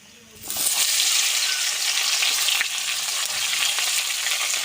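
Vegetable stalks hit leftover fish-frying oil after a brief quiet moment, then sizzle loudly and steadily close by, with occasional stirring scrapes in a village-style Bengali kitchen.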